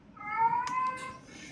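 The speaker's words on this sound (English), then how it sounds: "She's crying out and whinging because she wants to be let out so she can go out to wander around to look for male cats." A female cat crying at a door to be let out, one drawn-out, wavering meow close by, clear against a quiet room with no talk.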